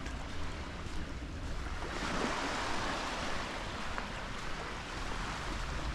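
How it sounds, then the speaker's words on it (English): Soft water lapping steadily at a quiet, sheltered shoreline, a continuous broadband wash with gentle swells in level and no voices. "Gentle lapping of the water."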